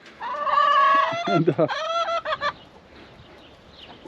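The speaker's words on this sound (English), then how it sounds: "check on the chickens, see how they're doing in their chicken shaw" A chicken in a backyard coop lets out a loud, drawn-out cackle followed by a few sharp clucks, close by, before it fades to quiet background noise.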